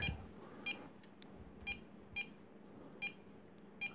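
Short high electronic beeps from an Arduino altimeter's battery indicator repeat at roughly even half-second intervals over a quiet low hum, faint and close.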